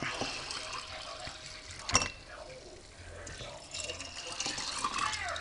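Water streams into glass jars of dry black beans being readied for canning, a close, continuous trickling pour under and between a person talking.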